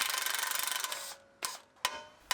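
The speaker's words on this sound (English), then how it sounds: "Take the lower ball joint out." Mechanical work on the lower ball joint of a 2019 GMC Sierra Denali steering knuckle: a rapid, buzzing ratchet or power-tool run gives way to two sharp metallic strikes with quiet pauses between.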